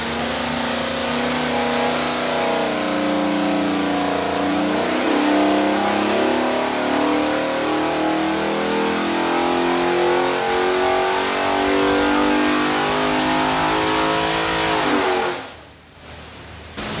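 A car engine on a dyno-style test run, fitted with a Holley 92 mm throttle body, revs loud and steady for about fifteen seconds, climbing through rising harmonics before cutting off abruptly near the end.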